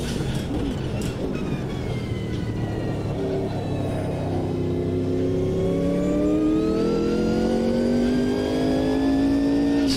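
A turbocharged race car engine revs hard through the gears on the historic 1983 Bathurst circuit in the Automobilista 2 racing game, a continuous loud roar with pitch climbing and dropping between shifts.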